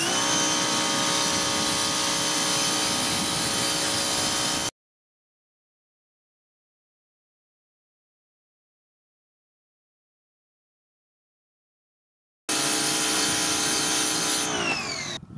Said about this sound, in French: Je vais commencer par mettre un petit coup de lance Vario pour nettoyer